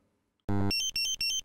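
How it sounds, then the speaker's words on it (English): A Dräger X-am 2500 gas detector sounds its instrument error alarm: after a short silence, a loud, piercing electronic tone sounds, then three rapid warbling beep bursts follow in quick succession. "If this X symbol appears in the display and the audible, visual and vibration alarms are activated, there is an instrument error."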